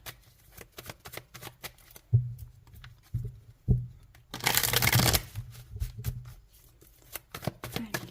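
Tarot cards being shuffled by hand, a dense riffling burst in the middle with lighter flicks and soft card taps before and after, close and fairly quiet, with no talking.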